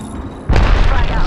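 A grenade in the Apex Legends video game explodes with a sudden deep, loud boom that rumbles on briefly as a player's voice sounds over it.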